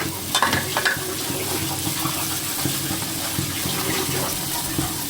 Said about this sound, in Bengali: এবার এটার মধ্যে পানি অ্যাড করে এটাকে ভালোভাবে মিক্স করে নিব